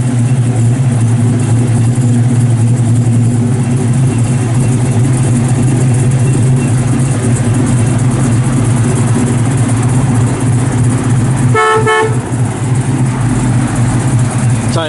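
A 1969 Chevrolet Camaro RS/SS with a 427 ZZ crate V8 and four-speed idles loud and close, a deep continuous rumble that runs steadily through the clip.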